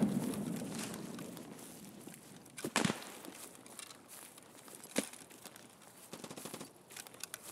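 Bursts of rapid gunfire in Escape From Tarkov crackle at a moderate distance, with a sharper shot standing out among scattered pops and faint movement sounds.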